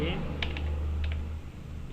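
Fingers tap a computer keyboard in a few quick, faint clicks over a steady low hum, with no voices.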